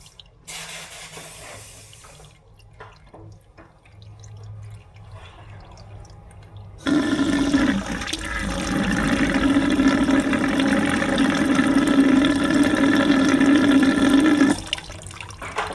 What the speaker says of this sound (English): we're going to pressurize that line a little bit, and you'll see all the extra water come out